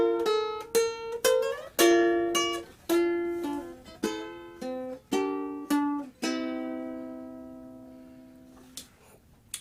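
Ukulele picking out the In the Bleak Midwinter melody, one string note at a time at a slow, steady pace, each note ringing and fading, with the final note left to decay into near silence.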